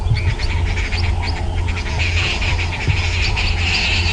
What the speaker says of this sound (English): Little three-banded plover.